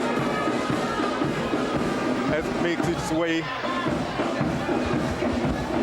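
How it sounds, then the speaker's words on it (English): A crowd gathers outside government headquarters on Church Street in St. Kitts and Nevis for the 2015 opening of the National Assembly, its steady murmur mixed with distant band music while a commentator talks over it. "The crowd is growing."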